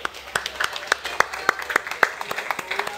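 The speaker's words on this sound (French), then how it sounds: "on va applaudir notre cuisinier" A small group applauds a cook in a kitchen corner, giving a short run of brisk, evenly spaced claps with faint talk underneath.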